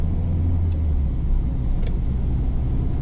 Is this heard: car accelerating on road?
yes